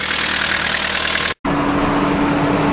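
A Nissan Navara D21 pickup engine idles while warming up after a radiator replacement, a loud steady rumbling drone that cuts out for a split second midway and then resumes with a slightly steadier hum.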